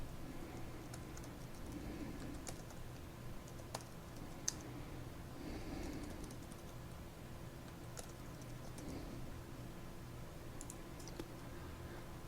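Sparse, faint clicks from a computer keyboard and mouse tick out irregularly as a name is typed and entered, set against a quiet room hum with no voices.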